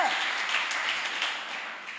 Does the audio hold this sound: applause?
yes